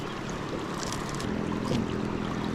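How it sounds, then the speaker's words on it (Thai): A strong stream current at a riverside fishing spot gives a steady, close rushing and gurgling with no one talking. "น้ำไหลแรงนะครับตรงนี้"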